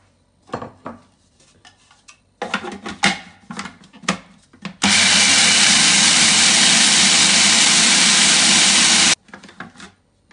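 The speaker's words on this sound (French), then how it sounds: "Première chose, je vais mixer les sésames." An electric mixer grinds sesame seeds, a loud, steady whirring roar that runs unbroken for about four seconds, framed by clattering of the bowl and utensils before and after.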